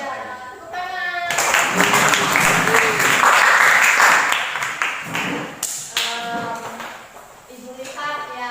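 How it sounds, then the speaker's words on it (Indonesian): Students clapping in a classroom, a burst of applause rising after a spoken line and holding for several seconds, then fading as talking resumes near the end. "Ya, tepuk tangan."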